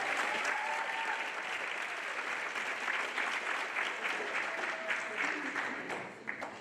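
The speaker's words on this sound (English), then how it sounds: "Let's give her another round of applause." A lecture-hall audience at an inaugural academic lecture claps in a sustained round of applause, loud and continuous for several seconds before tapering slightly at the end.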